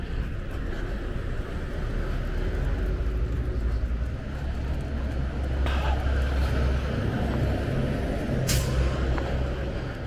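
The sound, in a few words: trucks on a street with air brakes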